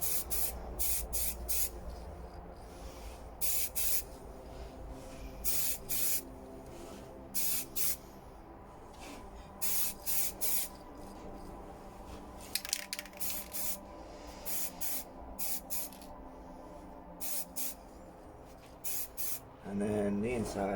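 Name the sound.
spray painting first colour coat on RC truck air intake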